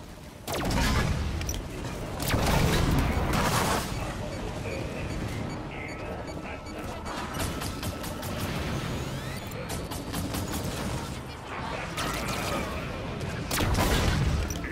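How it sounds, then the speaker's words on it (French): Fuel rod gun fire in the video game Halo, loud repeated blasts and crashing impacts amid chaotic battle noise, with a burst near the start and more explosions toward the end. "Tire au pistolet à combustible."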